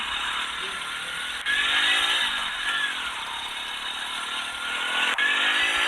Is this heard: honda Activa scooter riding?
yes